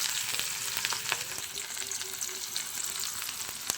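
Chopped onion fries in a pan with a bright, steady sizzle and crackle, close and fairly quiet, while a utensil stirs it with occasional faint scrapes; no one speaks.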